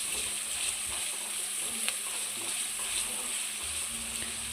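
Chopped onions frying in a couple of spoons of oil for bakery-style egg puffs, a steady close hiss of sizzling with faint scraping, no talk.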